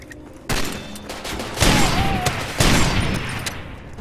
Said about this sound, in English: Yes, gun is loud.